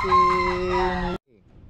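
A loud fighting rooster crows once, close by, holding a long strained call before cutting off abruptly into quiet.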